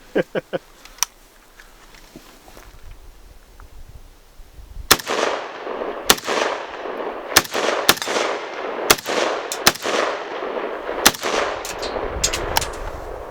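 Shots ring out from an XM177 CAR-15 carbine, a few light clicks first, then sharp, loud reports fired singly and in quick bursts, echoing outdoors.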